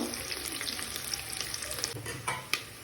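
Onions fry in hot oil in a pan for mutton kosha, a steady close sizzle with scraping stirs and occasional sharper pops.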